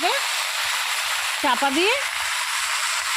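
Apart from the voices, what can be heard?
vegetable curry frying in a covered pan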